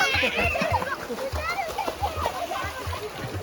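Water splashing and sloshing steadily during children's swimming practice, with children's voices calling and chattering over it.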